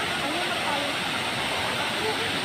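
The waterfall at Wawa Dam gives off a constant, dense roar of falling water with a voice talking over it.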